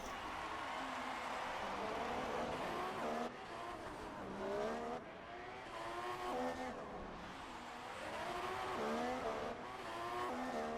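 Formula 1 cars race at the Canada circuit in a video game, their high-pitched engines whining as they rise and fall through gear changes, several cars audible in sustained loud engine noise.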